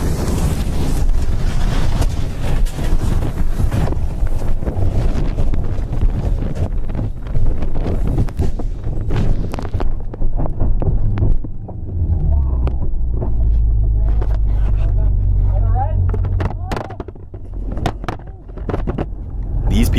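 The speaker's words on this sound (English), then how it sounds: "These people from China dealt with some of the craziest winds ever." Strong storm winds in China, heard as loud gusty roaring and rumbling buffeting the microphone, with sharp bursts and crackles, easing into a lower rumble partway through.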